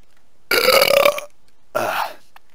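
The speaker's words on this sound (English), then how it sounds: "Me burping is now a recurring theme of the video" Two loud, close burps, the first long and throaty, the second shorter after a pause, with silence around them.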